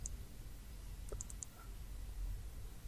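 A computer mouse gives a few quick, faint clicks in a short cluster during graphic design work in CorelDraw, over a low, steady room hum.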